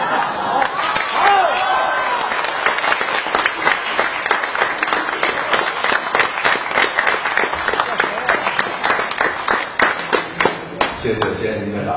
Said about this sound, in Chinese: 谢谢谢谢您的掌声